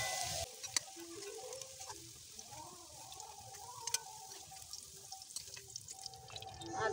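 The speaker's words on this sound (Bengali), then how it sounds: "এবার আলুগুলো ভেজে নেব" Potato pieces frying in hot oil in a pan while cooking a cauliflower and rohu fish curry, giving a steady soft sizzle with scattered crackles and drips, fairly close and alone without talk.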